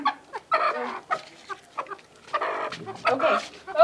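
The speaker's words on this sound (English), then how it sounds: "Oh my gosh, I have a chicken." Chickens cluck and squawk in short irregular bursts close by, mixed with people talking nearby.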